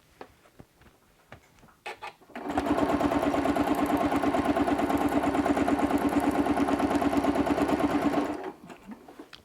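Sewing machine stitching wavy quilting lines: a few light clicks, then a rapid, steady mechanical chatter running evenly for about six seconds before stopping abruptly. Loud and close, with no talking.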